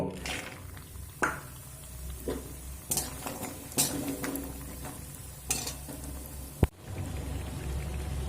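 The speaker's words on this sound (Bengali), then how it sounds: "তেল গরম হতে দেব দেখুন তেল আমি গরম করে নিয়েছি এবার এখানে যে বড়ি রেখেছি বড়িগুলো ভেজে নেব" Lentil dumplings (bori) fry in hot refined oil with a steady rain-like sizzle and crackle, broken by a few sharp knocks and stirring scrapes in the pan.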